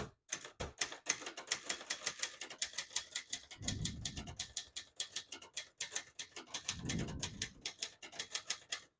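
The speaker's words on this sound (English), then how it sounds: "Actually, a very impressive typewriter." Rapid, crisp key strikes on a 1967 Brother Webster XL-500 portable typewriter, typed close up in a fast, even clatter, with two heavier carriage or mechanism thumps along the way.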